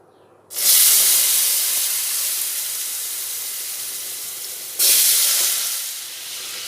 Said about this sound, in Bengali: এবার ওই গরম তেলে আলুগুলো দিয়ে দেব